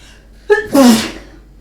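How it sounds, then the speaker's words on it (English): A single loud human sneeze, a short sharp intake followed by a forceful burst, close to the microphone against a quiet background. "I'm gonna sneeze."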